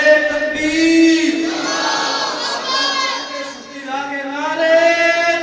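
A large crowd at an outdoor religious gathering shouting together in answer to a Nara-e-Takbeer call, loud sustained voices rising and falling over several seconds.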